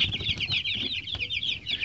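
Farm chickens, young birds among them, clucking and chirping continuously in a busy, close chorus of overlapping calls with no talk.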